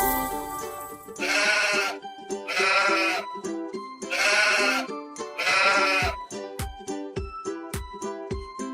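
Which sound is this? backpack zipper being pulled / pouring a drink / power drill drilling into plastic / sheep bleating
sheep bleating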